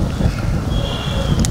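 Wind gusts across a microphone outdoors, a steady low rumbling buffet with no speech, lasting only a moment.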